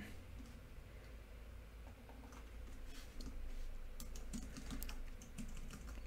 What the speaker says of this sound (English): Here, we'll type in sales call underscore.